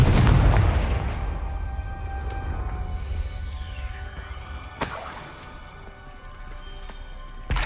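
A Confringo fire spell explodes in Hogwarts Legacy, a loud booming blast with a shattering crackle that decays slowly into a low rumble, followed by a second sharp burst mid-way.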